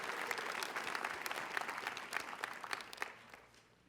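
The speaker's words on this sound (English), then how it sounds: "let's give her a round of applause for her leadership within the IB" Audience applause at a high school IB pinning ceremony, steady clapping from a sizable crowd that holds for several seconds and then tapers off toward the end.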